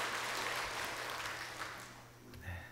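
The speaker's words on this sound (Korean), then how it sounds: "우리 수고하신 우리 사동산 찬양대를 위해서 격려와 축복의 박수 한번 하겠습니다" A church congregation briefly claps for the choir after a Holy Week service performance, a short, soft burst of scattered applause heard at a distance for under three seconds.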